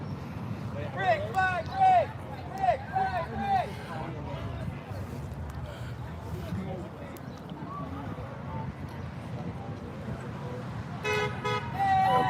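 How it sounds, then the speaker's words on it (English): Car horns honk repeatedly at a police department protest in American Fork, short toots and longer blasts overlapping above steady traffic rumble, with a louder burst near the end. "we got a whole bunch of beeping and honking"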